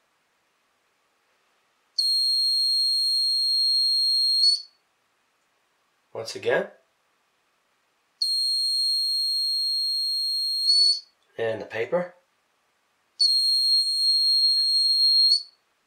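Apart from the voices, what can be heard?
piezo buzzer triggered by air flow detection circuit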